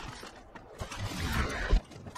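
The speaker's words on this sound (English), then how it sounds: "reloading." Weapon reloading in the Apex Legends video game: a short run of mechanical clicks and clunks over a steady game-sound bed, with a louder metallic snap near the end.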